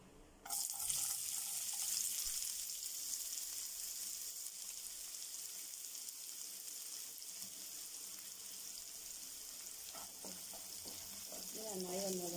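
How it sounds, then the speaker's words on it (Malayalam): Sliced onions frying in a pan for squid biryani, a steady loud sizzle running throughout with faint stirring scrapes near the end. "സവാള ഇട്ട് കൊടുക്കാം."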